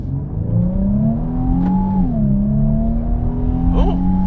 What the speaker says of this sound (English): It definitely sounds like a V6, which it is